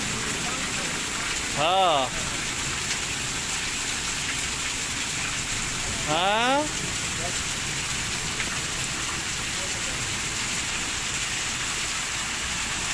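Heavy rain falls in a steady, dense roar throughout. A voice speaks briefly twice over it.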